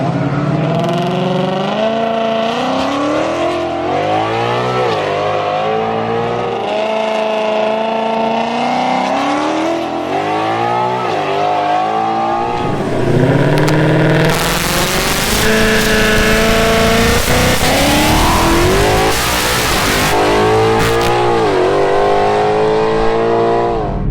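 A 2018 Mustang GT V8 revs hard and repeatedly at a drag strip during trans brake launches, loud and close, its pitch rising and falling. Engine roar grows broader and harsher in the final stretch.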